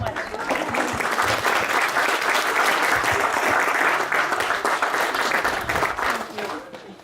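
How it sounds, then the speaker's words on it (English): Wedding guests break into steady, full applause that swells quickly and holds loud for several seconds before tapering off near the end. "All right, let's give Gulbara another hand of applause, a round of applause."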